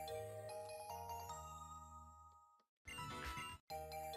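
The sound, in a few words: phone voice assistant activation chime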